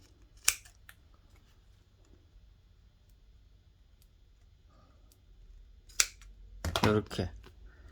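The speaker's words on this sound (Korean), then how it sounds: "뒤집어서 튀어나온 부분을 잘라주세요" Scissors snip the protruding fabric of a handmade shoulder bag, with a single crisp cut, then a quiet pause and another snip, closing in a quick burst of several cuts, close and fairly faint with no talking.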